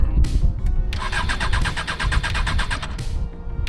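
A race car engine with a low battery cranks for about two seconds in a rapid, even, sluggish starter rhythm. It sits between bursts of rumbling noise, close and loud.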